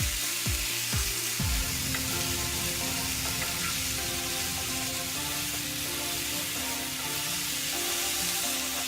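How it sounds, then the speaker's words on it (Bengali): Taki fish with chopped carrot, potato, turmeric and salt stirred together in a hot pan, giving a dense, steady frying sizzle with a few stirring knocks at the start, under a constant tonal hum. "গাজর কুচি, টাকি মাছ, হলুদ, লবণ দিয়ে সবগুলোই একসঙ্গে নাড়াচাড়া করে নেব।"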